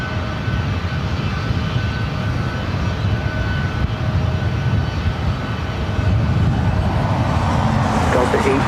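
A Delta Boeing 757-200 jet airliner rumbles steadily at LAX, a loud broadband engine roar that swells slightly toward the end.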